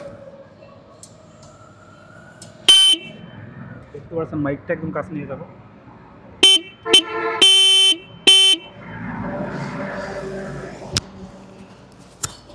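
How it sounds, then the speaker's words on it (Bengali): The horn of a Hero Extreme 125R motorcycle blares close up in a series of short, loud honks: one single toot, then a rapid cluster of bursts. Someone talks between the honks. "বর্তমান যে হর্নটা আছে সেটা আমি আপনাদের শোনাবো, কেমন সেটা একটু শোনেন"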